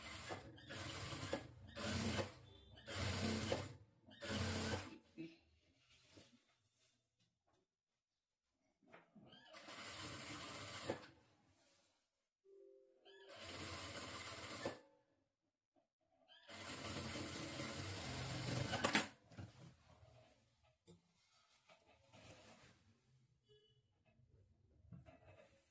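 A sewing machine stitches the bottom part of an umbrella dress made from a saree, running in several short bursts with quiet pauses between them.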